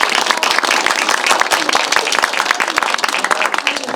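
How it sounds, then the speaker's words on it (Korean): A cinema audience at a Korean film screening Q&A gives an arriving actor dense, energetic applause, many hands clapping close and loud for the whole stretch. "큰 박수 부탁드리겠습니다."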